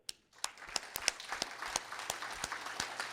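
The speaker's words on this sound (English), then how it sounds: "let me have a round of applause for you of this" A conference audience gives a round of applause, a quiet, distant patter of many hands with a few sharper claps standing out, building after a brief silence.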